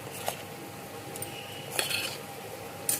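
A ground masala paste goes into a pan with fried onion and spices for a pea usal, and a metal spoon scrapes and clinks against the cookware in sparse, close, quiet knocks.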